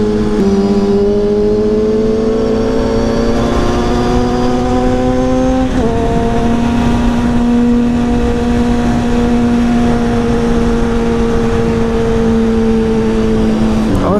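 Small motorbike engine in a video game holds a steady buzzing drone throughout, rising and dipping slightly in pitch with a brief shift midway as the rider slides; loud and continuous with no talk.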